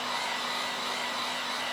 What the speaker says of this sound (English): I'll use the blow dryer to just like make sure it's